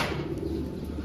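A racing pigeon gives a soft low coo at close range, the murmur blending into the steady hum of a loft.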